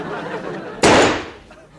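A gunshot in a comedy sketch: one sudden loud bang that cuts in after a stretch of talking and then fades quickly.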